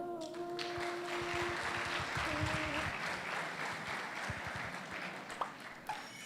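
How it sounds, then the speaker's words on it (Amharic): A large audience claps steadily for about six seconds at a combined graduation ceremony for twelfth-grade and higher-education students, a dense, even wash of applause with faint musical tones early on. "ታዲያ ይህ ጭብጨባ ያስፈልገው?"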